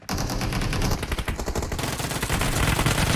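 Rapid bursts of automatic gunfire from a team shooter game during a tournament match, loud and continuous with dense overlapping shots and no talk.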